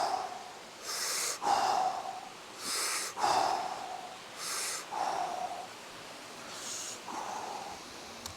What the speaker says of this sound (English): Nice big breaths in right now before we start to speed it up.